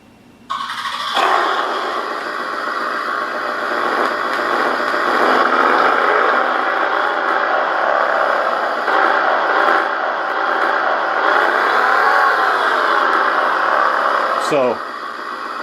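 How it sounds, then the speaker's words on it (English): Simulated car engine from a Beier MSM-1 sound module, starting up and then running steadily at a loud, close level for about fourteen seconds, with some rising and falling in pitch before it cuts off. "when we hit the engine, we should get a car sound"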